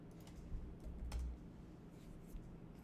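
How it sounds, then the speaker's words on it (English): Very quiet, irregular clicks of keys being tapped on a computer keyboard, a few taps at a time against faint background hum. "Yeah, I don't care if you can hear me typing."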